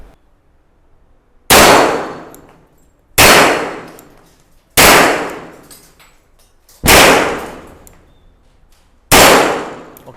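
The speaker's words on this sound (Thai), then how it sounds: "ทดสอบยิงกันไปเรียบร้อยแล้วนะคะ" A RIA 1911A1 pistol with a threaded barrel being test fired: five loud, sharp cracks spaced roughly two seconds apart, each ringing out with a short decaying tail and nothing else in between.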